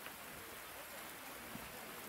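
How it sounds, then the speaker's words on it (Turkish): Steady rain falls over a park garden, the Millet Bahçesi in İliç, Erzincan, as an even, close hiss of drops with no talk and no breaks. "Bakın yağmura, görüyor musunuz?"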